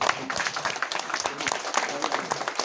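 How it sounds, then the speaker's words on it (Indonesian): Audience applause at a PDIP Surabaya commemoration of Bung Karno's birthday, greeting the deputy mayor: dense, steady clapping from a crowd, fairly distant, with a voice over it. "Tepuk tangan untuk Cak Ji"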